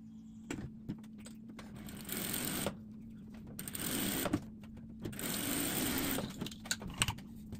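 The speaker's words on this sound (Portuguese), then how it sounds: "E vamos passar uma costura do lado e uma costurinha do outro." A sewing machine stitches side seams in fabric pieces placed right sides together, running in several steady mechanical bursts separated by short pauses and clicks, close by.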